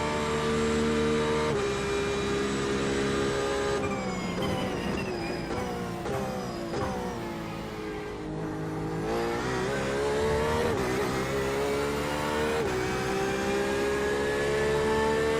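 Race cars, including an Audi and a Lamborghini, lapping Mount Panorama at Bathurst in the iRacing sim, with engines steadily revving up and down through gear shifts, loud and continuous, with occasional tire squeal and no talking.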